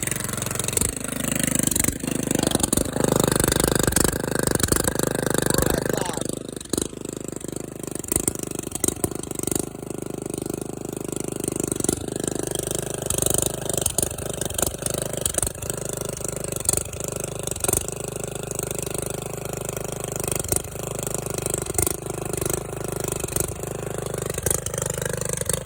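A motorcycle with a new, louder exhaust revs at full throttle, a loud sustained engine roar that drops after a few seconds and then settles into a rough, steady rumble with small surges.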